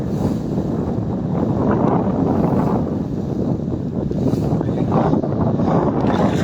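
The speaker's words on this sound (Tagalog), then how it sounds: "Grabe lakas ng hangin." Strong wind roars and buffets the microphone continuously during traditional net fishing, a loud, steady rumbling gust with no other distinct sounds breaking through.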